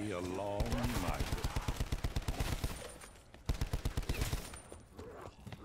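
Rapid bursts of light machine gun fire from a VATR XKG in a zombie video game, the night-time Dead of the Night map, rattling in steady repeated volleys with short gaps, loud and close over game music.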